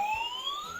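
A toy ambulance's electronic siren wails in a steady rising tone with a harmonic, near and fairly loud, sounding alone for under a second.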